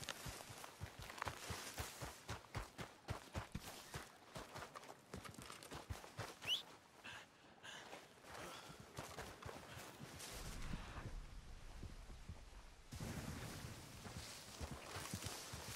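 Horse hooves clip-clopping in the video game Red Dead Redemption, a steady rhythmic stream of hoof beats that fades out midway, leaving softer ambient noise, then picks up again quietly.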